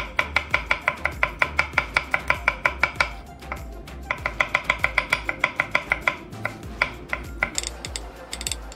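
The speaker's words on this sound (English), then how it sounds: "The same way as an onion, you cut 2 incisions here. And cut straight. 1, 2, and start the minced." A knife chops garlic on a board in fast, even runs of crisp, close taps, with a brief pause after about three seconds and a looser scatter of strikes near the end, no voices.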